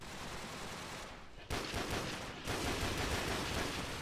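Sniper rifle fire in Call of Duty played on the Wii, dense and loud bursts of gunfire, growing sharper and more intense partway through, with no voices.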